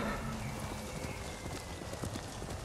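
Steady hoofbeats of a horse galloping under its rider in Ghost of Tsushima, a continuous rhythmic clip-clop that stays fairly quiet and even throughout.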